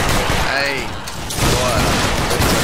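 Musket volley fire in the video game Battle Grounds III during a line battle, with loud overlapping shots in quick succession and rumbling booms, while commands are shouted over the gunfire.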